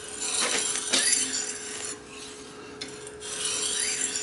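Kitchen knife drawn across the coarse side of a wet whetstone, producing a steady series of close, raspy scraping strokes that pause briefly before resuming.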